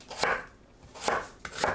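A kitchen knife cuts potatoes into half-moon slices about half a centimetre thick, giving three crisp chopping strokes on a cutting board, close and distinct with short pauses between them.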